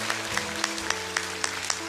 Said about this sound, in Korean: 예수 그리스도께 감사와 영광의 박수를 올려드립니다